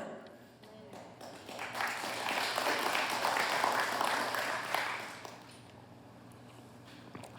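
A church congregation offers a short burst of scattered clapping during a sermon, swelling softly for a few seconds and then fading back to quiet.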